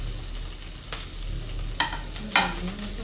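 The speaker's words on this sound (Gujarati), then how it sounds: "શિમલા મિર્ચ અને કાંદો. આ બધી વસ્તુ આપણે એની અંદર એડ કરી દઈશું." Capsicum and onion fry with a soft constant sizzle in a pan while a spoon stirs them, with about three sharp scraping clatters against the metal and no talk.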